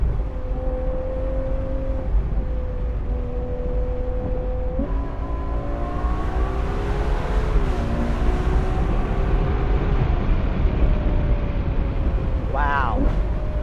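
Ferrari 812 GTS V12 engine droning from inside the cabin with stepped pitch changes as it shifts, rising and falling under steady road noise, ending in a quick rev blip near the end.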